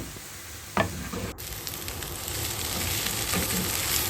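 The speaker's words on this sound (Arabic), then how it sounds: "هننزل فيها البصل اللي فرمناه، ونفضل نقلب فيه لحد ما لونه يبقى ذهبي" Minced onion sizzles steadily in an oily pan while a utensil stirs it, giving a continuous frying hiss with scraping strokes and a few sharp clicks against the pan.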